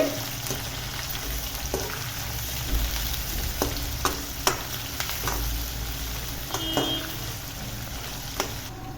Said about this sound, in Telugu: కొంచెం కరివేపాకు ఉల్లిపాయ ముక్కలు వేసుకొని బాగా కలుపుకోవాలి